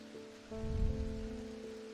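Steady rain falls in Strange Antiquities, a soft continuous patter that swells after a moment and holds under a low sustained musical drone.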